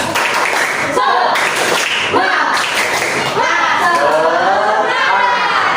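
Schoolchildren in a classroom doing a spirit clap together, sharp rhythmic claps in unison mixed with loud shouting voices of the group, close and energetic throughout.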